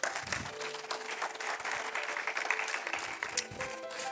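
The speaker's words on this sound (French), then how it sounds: "est-ce que tu peux acclamer le Seigneur?" A church congregation applauds and cheers the Lord during a sermon, a steady, full wash of clapping from many people that holds for several seconds with a loud peak partway through and no clear speech.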